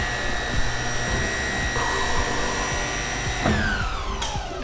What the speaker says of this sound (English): I'm gonna go ahead and cycle the machine in this mode.